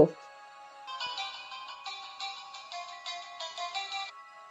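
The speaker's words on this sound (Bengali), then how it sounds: "কথা বলতে বলতে ডক্টর রয়ের একটা ফোন এলো" A telephone ringing in a Bengali detective audio drama, a steady electronic ringtone in repeated bursts after a brief sound at the start, clear and alone.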